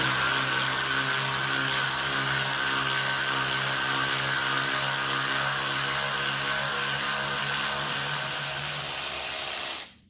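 An S-long 3/8 cordless ratchet runs continuously with a steady whirring motor drone and mechanical buzz, loud and close, holding for nearly ten seconds before stopping abruptly.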